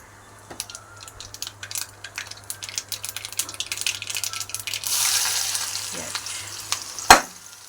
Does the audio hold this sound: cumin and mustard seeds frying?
yes